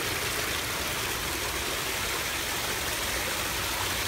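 A renovated garden waterfall flows under a landing, giving a steady, full rush of splashing water that stays constant and close throughout, with no other sounds.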